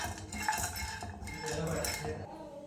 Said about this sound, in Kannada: ನೋಡಿ, ಹುರ್ಗಡ್ಲೆ ಕೂಡ ಹಾಕ್ಕೊಳ್ತಾ ಇದ್ದೀನಿ. ಇದಕ್ಕೆ ಇದ್ರ ಜೊತೆ ಫ್ರೈ ಮಾಡ್ಕೊಳ್ಳೋಣ